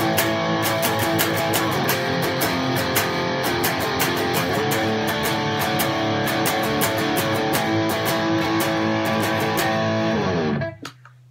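A distorted electric guitar plays a black metal chord progression: a dense, loud wall of fast-picked chords that continues steadily, then cuts off and rings out at the very end.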